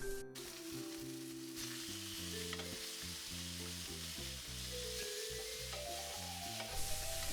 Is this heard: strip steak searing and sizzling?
yes